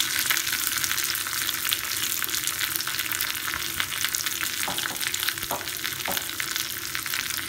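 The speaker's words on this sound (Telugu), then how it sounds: "కరివేపాకు పచ్చిమిర్చిని ఫ్రై అయ్యేదాకా వేయించుకుందాం." Curry leaves and green chillies fry in hot oil in a Telugu home kitchen, giving a steady, close, dense sizzle with a few brief stirring knocks near the end and no talk.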